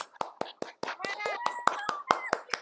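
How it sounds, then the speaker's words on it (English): Graduates on a virtual call clap their hands in about a dozen sharp, separate bursts, while voices cheer and talk over the patchy clapping. "Give yourselves a round of applause"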